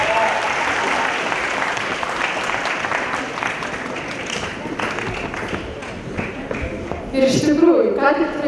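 Audience in a conference hall in Kaunas applauds, a sustained dense clapping at steady volume, with a voice and louder bursts near the end.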